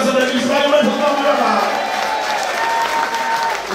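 A crowd applauds steadily and loudly for a DJ at a 33-year mixing anniversary celebration, a continuous wash of clapping and cheering with voices mixed in throughout.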